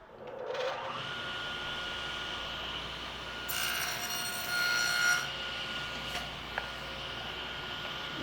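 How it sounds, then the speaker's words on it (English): A shop vacuum runs steadily while 1/4-inch plywood is cut for a wooden cube, a continuous whine under brief rasping bursts of wood being cut, close and fairly quiet. "start the vacuum again."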